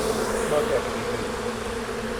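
Honeybees buzz close around a beekeeper working a hive, a steady droning hum with a few louder passes near the start, brief and continuous.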